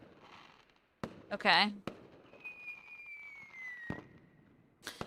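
In a visual novel video game, fireworks burst in the night sky: a sharp crack, a whistling crackle that rises and fades, and a long thin descending tone, followed by further pops, with a brief spoken word.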